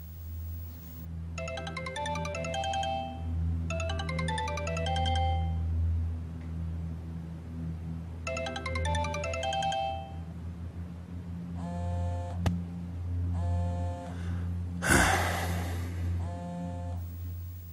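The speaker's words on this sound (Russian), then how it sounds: "Кюсню, ответь на звонок." A phone rings in repeated electronic bursts of trilling tones with short pauses between them, loud and close over a steady low hum, with a brief sharp knock near the end.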